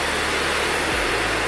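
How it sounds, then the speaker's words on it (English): A handheld blow dryer runs on wet braided hair with a steady loud whooshing roar, its motor tone dipping briefly partway through as it is moved or switched setting. "So I did go in with my blow dryer a little bit."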